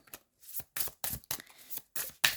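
Tarot cards shuffled in a few quick riffling bursts with short pauses between, close and fairly soft, with no talking.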